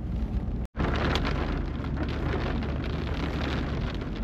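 Heavy rain pours over farmland beside a canal during a thunderstorm. A dense, steady hiss of downpour stays close and loud throughout, broken by one brief dropout.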